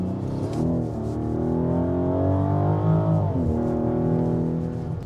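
Engine of a Mansory-tuned Rolls-Royce Wraith, a 632-horsepower rear-wheel-drive luxury coupé, heard from inside while driving: a steady, loud harmonic drone that rises slightly in pitch, dips briefly, then settles back, with no talk.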